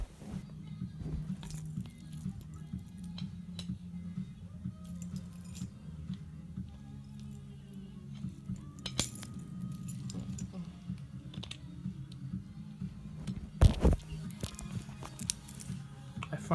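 Keys jangle and metal clicks as a bike lock is worked open, a low steady hum underneath and a sharper rattle near the end.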